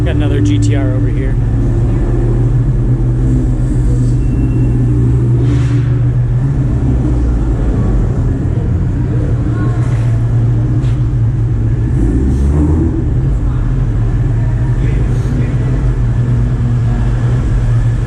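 Nissan GTR engine rumbling at idle, a loud steady low drone that runs unbroken, close by in an echoing indoor car show hall, with voices talking over it throughout.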